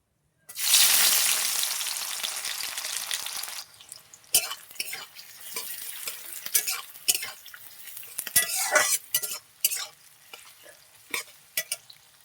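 Onion with bay leaf and garam masala hits hot oil in a pan for buffalo meat curry, a loud burst of sizzling that fades after a few seconds into quieter frying broken by sharp clinks and stirring scrapes.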